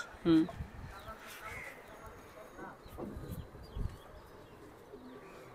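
A male pigeon with black-barred wings coos in low, burbling phrases alongside its hen. The murmur is faint and intermittent, and people talk nearby.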